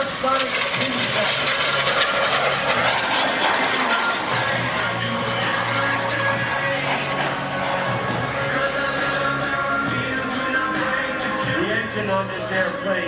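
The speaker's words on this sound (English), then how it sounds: "There he is, Tom Larkin, the SubSonex Mini Jet." A SubSonex Mini Jet with a PBS TJ-100 turbojet performing at the 2021 Greenwood Lake Airshow, a steady whining engine roar held under an announcer's continuous commentary.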